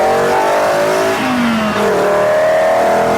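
Mk2 Golf GTI with a 07K five-cylinder engine and aftermarket intake manifold revving loudly, rising and falling engine tones with throaty intake induction roar, close and continuous without talk.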